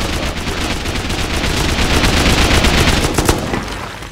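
Sustained automatic gunfire from a 5.56 rifle loaded with explosive ammunition in the game Rust, a dense, continuous rattle of rapid shots with sharp cracks, loud and steady throughout, no talking.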